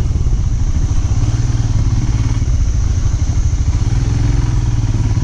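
A Royal Enfield Himalayan motorcycle climbs uphill in first gear on a dusty Himachal road, its single-cylinder engine thumping in a fast steady pulse close to the rider, loud and continuous.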